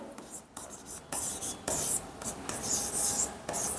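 A hand writing out an accounting entry, producing close, scratchy pen strokes in short rhythmic bursts separated by brief pauses, with no clear talk over it.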